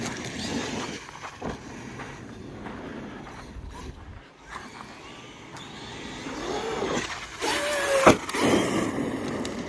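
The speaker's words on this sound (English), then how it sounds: "I have to give it a bit of a blip because I know it's going to nosedive" A Traxxas X-Maxx 8S RC monster truck airborne mid-jump, its electric motor giving a short throttle blip that rises in pitch near the end, over wind buffeting and rumbling outdoor background noise.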